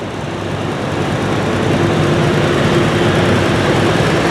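A pulling tractor at a truck and tractor pull gives off a loud, steady, unbroken engine roar with a heavy low drone, heard alone with no voices.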